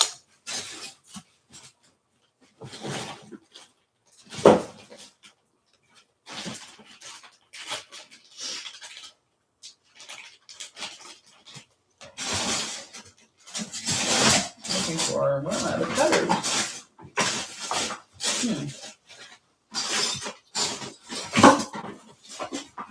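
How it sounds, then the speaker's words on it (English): Clay cutters clatter and scrape as a drawer of them is rummaged through, giving irregular bursts of metallic rattling and knocking, louder and denser around the middle, with quiet pauses between handfuls. "I'm just going through the cutter drawer."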